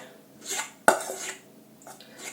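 Eggplant caviar vegetables with spices are stirred in a bowl: soft scraping passes and one sharp utensil clink against the bowl's side, close and quiet.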